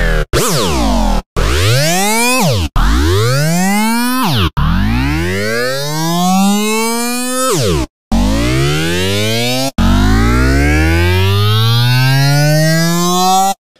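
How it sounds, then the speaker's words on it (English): A synth riser built in Logic Pro 9 plays in repeated loud, harmonically rich sweeps, each climbing in pitch. They are cut off abruptly and restart, the later ones stretching longer and rising more slowly. "it will rise over a very long period of time. And that's what we want, a riser."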